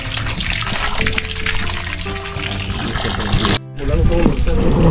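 Water runs steadily from a tap or hose, flushing river sand out of a bantigue bonsai pot. The loud splashing and gurgling continue almost without a break, pausing for a moment before resuming.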